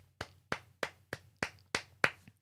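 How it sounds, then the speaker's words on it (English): Seven crisp hand claps, close and evenly spaced in a steady rhythm, with nothing else around them. "I'm going to give it an applause"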